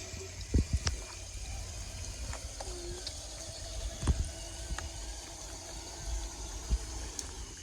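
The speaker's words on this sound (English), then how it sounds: "Look at this cute little waterfall over here." A small waterfall spills over flat rock in a park, giving a soft, steady trickle at a moderate distance, broken by scattered faint bumps and knocks.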